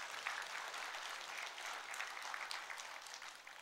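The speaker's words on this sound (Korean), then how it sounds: "자주 오라고 저기 박수 한번 더 쳐주세요." A church congregation claps together in a faint, distant, steady patter lasting several seconds.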